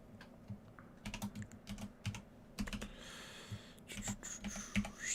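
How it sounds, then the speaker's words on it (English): Quick typing on a computer keyboard during a gaming livestream, with close, clattering keystroke bursts in short irregular runs and brief pauses between them. "Just typing a couple things in real quick."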